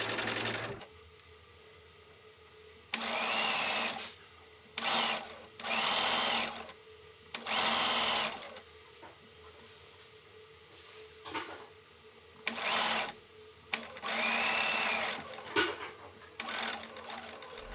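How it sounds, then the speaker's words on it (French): Sewing machine stitching along a shirt cuff in several separate loud bursts of a few seconds each, with quiet pauses between runs; no talk. "Je vous montre la couture à la machine sur l'autre poignet."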